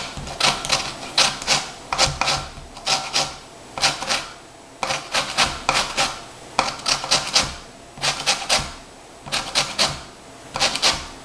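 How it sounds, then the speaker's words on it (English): An orange rind scraped over a fine handheld grater to take off the zest, heard as repeated bursts of quick rasping strokes in a steady rhythm, close up and fairly loud, with no talking. "I'm just going to grate some zest off the orange"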